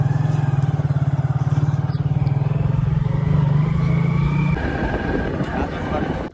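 A motorbike carrying riders on a ride near home in Assam hums with a steady low engine drone and rhythmic pulsing, close and loud, shifting character partway through.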